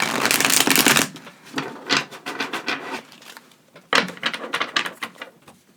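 A deck of cards is shuffled up close in several crisp, rapid riffling bursts separated by short pauses, with no voices.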